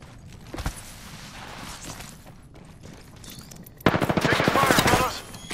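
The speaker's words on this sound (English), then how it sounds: "Taking fire, fellas!" Video game gunfire: a single sharp shot early on, then a loud, rapid burst of automatic fire near the end, with faint voices in the background.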